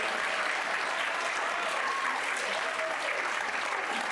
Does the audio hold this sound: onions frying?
no